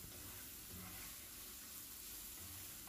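Whole cinnamon, green cardamom and five to seven peppercorns fry in oil as the base for chicken rezala, giving a faint, steady sizzle with no talking.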